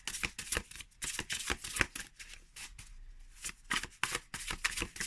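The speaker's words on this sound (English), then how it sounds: "I'm shuffling" A deck of oracle cards is shuffled by hand close up, making quick bursts of crisp riffling and flapping with short pauses between passes.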